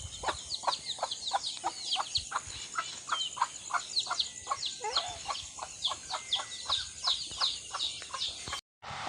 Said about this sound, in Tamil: அதாண்டி கோழிங்களுக்குலாம் அரிசி கொடுத்தேன்